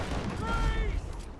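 In the naval combat game Abandon Ship, cannons fire in a rapid volley of booming shots over dense battle noise, while a voice talks over the action.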